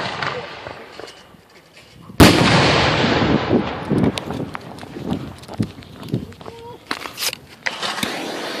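Firework mortar shells fired by hand, with one sharp loud launch blast followed by crackling, rumbling bursts and scattered pops over several seconds.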